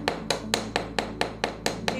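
A hammer tapping the top of a metal S-link to texture it, nine sharp, evenly spaced close strikes in quick regular rhythm, fairly quiet overall.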